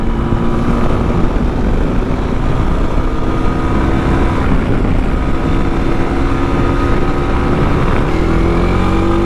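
A TVS RTX300 adventure motorcycle engine drones steadily and loudly at speed, its pitch wavering slightly and climbing near the end, with no voices.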